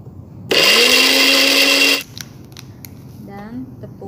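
A blender grinds garlic and chili, whirring loudly at high speed for about a second and a half, then stops abruptly, followed by quiet kitchen clatter and a brief voice.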